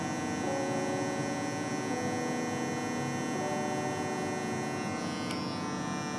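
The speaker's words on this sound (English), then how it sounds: "So I'm gonna start taking this bottom line off. Clippers closed, looking at that line." Electric hair clippers hum steadily and evenly during a taper fade haircut, a constant close motor buzz with no talking.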